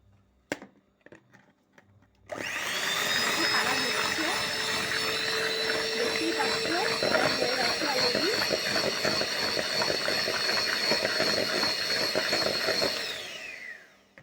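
Strawberry cake batter with strawberry aroma and a couple of drops of colouring is beaten with an electric beater, a loud, steady motor whir that starts abruptly after a quiet moment and runs continuously for about twelve seconds before winding down.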